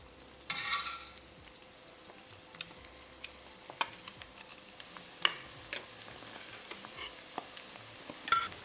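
Chickpea shakarpara dough pieces frying in hot oil, a soft steady sizzle with a burst as pieces go in early on and scattered crackles and pops throughout.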